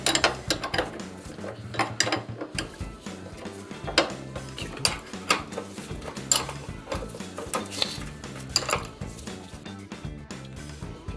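Mechanic working on a Citroën 2CV to free a Koni shock absorber, with a busy run of metallic clanks, ratcheting clicks and tool knocks close by, no talking.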